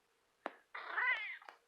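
An old cat, just woken from snoring, gives one drawn-out, wavering meow up close, with a short sharp sound just before it and another just after.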